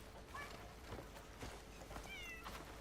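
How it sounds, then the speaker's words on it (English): A cat in the video game Crimson Desert gives two short, faint meows roughly two seconds apart, soft against a steady ambient game background. "Look at that happy cat."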